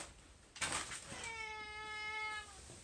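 A pet cat named Spooky lets out a single drawn-out meow, clear and close, after a short burst of noise, with no talk over it.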